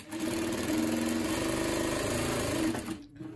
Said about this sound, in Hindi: कपड़े पे इस तरीके से ये सिलाई लगा रही है